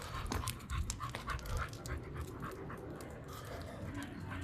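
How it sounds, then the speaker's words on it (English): A dog pants steadily and close by during an evening walk outdoors, with quick, breathy, rhythmic huffs continuing throughout. "Oh, there's a dog over here."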